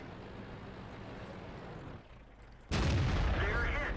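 In World of Tanks, a tank cannon shot slams into a Super Pershing's track: a sudden loud, broadband blast after a steady engine rumble, its booming wash lingering to the end.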